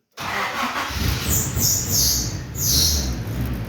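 A car engine revs up and holds high during a diagnostic check, rising in three surging waves close by, with no talking.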